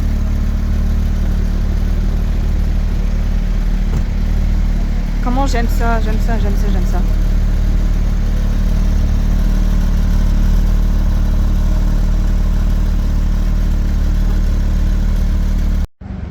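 Supercar engine idling among cars like an Aventador, 488, SVJ, Pista, RS6, Urus and F12: a constant low rumbling drone runs close and loud for the whole stretch, while someone speaks French briefly over it.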